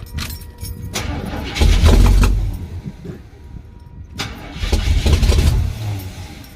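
An old car engine with no electronics cold-starts and revs in the cold, swelling twice into loud roaring bursts separated by a rougher, lower idle.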